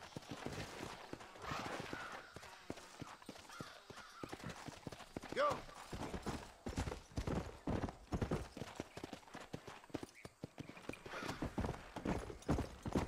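Horse hooves clip-clopping as a rider travels in the Red Dead Redemption video game, a quick irregular rhythm of hoofbeats with a brief whinny, talk heard over it.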